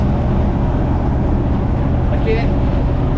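A car being driven, a loud steady low engine and road rumble heard from inside the cabin, with a brief high squeal partway through.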